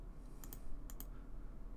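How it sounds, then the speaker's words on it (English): A computer mouse clicked several times in quick pairs, light and close against a steady background hum, with no talk. "What you have to do is right click on it."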